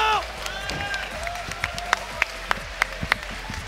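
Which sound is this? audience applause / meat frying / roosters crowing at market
audience applause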